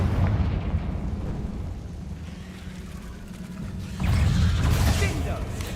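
A Confringo fire spell bursts in a Hogwarts Legacy duel, a loud rumbling blast swelling midway over steady combat noise.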